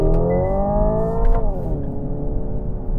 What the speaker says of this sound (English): I purposely let it hit the red line right now, and I had to shift and kind of gave me a warning